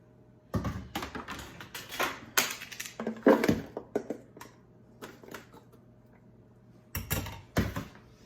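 Big plastic Tupperware bowl handled in a home kitchen, a series of close hollow clacks, knocks and rustles in irregular clusters separated by quiet pauses.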